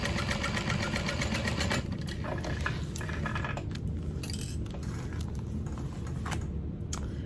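A sewing machine stitches a bag's bottom panel to its front and back, a fast steady mechanical whirring with rapid needle ticking, close and continuous, briefly easing and resuming.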